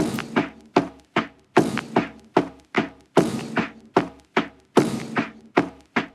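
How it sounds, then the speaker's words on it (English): A repeating drum beat with gritty, saturated hits and a roomy echoing tail on the snares from stone-quarry room reverb, filtered, steady rhythm, loud and up front. "add 3 saturation plugins, a room reverb emulating the sound of a stone quarry,"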